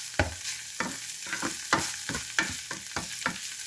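Taco-style filling with onion and jalapeno cooking in a pan, with a series of sharp spatula scrapes and stirs landing every half second or so over a soft sizzle, close and fairly loud.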